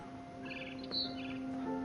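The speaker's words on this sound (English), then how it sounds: "Then I heard chirping outside my window." Birds chirping outside a window in the video game What Remains of Edith Finch, a few soft, high tweets over a quiet ambient hum, brief and faint.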